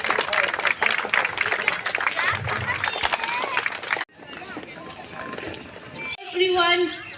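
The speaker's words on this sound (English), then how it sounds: "Please, can we have a round of applause for our guests?" An audience at a Republic Day event applauds guests, loud crowded clapping mixed with voices and bustle, followed by a quieter stretch and then people talking.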